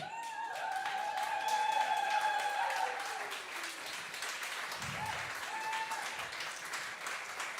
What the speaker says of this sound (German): Also einen großen Applaus, nur hier auf der Platzsoundsbühne.